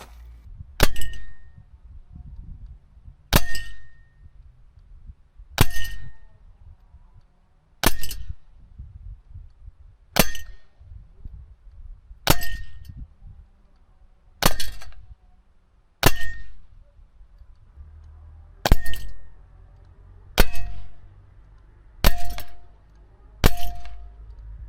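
A Norica NAC .177 air pistol firing Crosman pointed pellets at a target, about a dozen sharp individual cracks with metallic pellet impacts, spaced evenly a couple of seconds apart, with quiet handling between shots.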